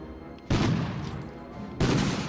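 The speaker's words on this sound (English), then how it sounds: "deal with the machine gun" Two loud bursts of automatic gunfire from the Medal of Honor PS1 game, about a second apart, each sustained and close.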